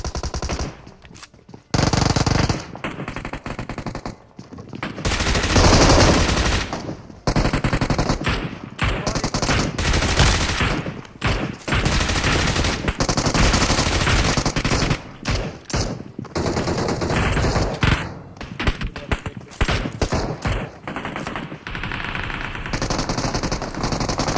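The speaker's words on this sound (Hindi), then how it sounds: "गोलियों की आवाज बंद ही नहीं हो रही" Rapid automatic gunfire from M416 rifles in the mobile battle royale game Battlegrounds Mobile India, loud and nearly continuous bursts with only brief gaps, no talk over it.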